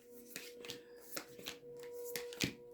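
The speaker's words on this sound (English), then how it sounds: "I'll be doing your reading from the Necronomicon Tarot deck. Get you some good shuffles in" Necronomicon Tarot cards are shuffled by hand, with soft quiet riffling and a series of sharp snaps and taps as the deck is split and bridged at an uneven pace, close up, against a faint steady hum.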